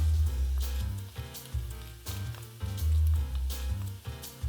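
Chopped onion frying in a pan for saffron risotto, giving a steady close sizzle with crackling bursts throughout and no talking.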